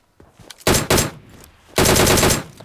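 Gunfire rings out in PUBG Mobile, with a couple of faint shots followed by two loud bursts of rapid automatic fire that crack up close.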